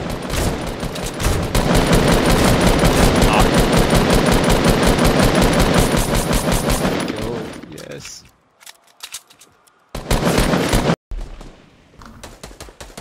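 Loud, dense rapid gunfire in a Fortnite match, a sustained rattling burst for several seconds before cutting off, then sparse shots and brief bursts as the fight winds down.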